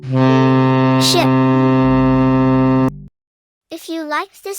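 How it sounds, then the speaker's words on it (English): A ship's horn gives one long, loud, steady blast with a deep tone and strong harmonics, lasting close to three seconds before it cuts off. A short voice follows after a brief gap. "ship."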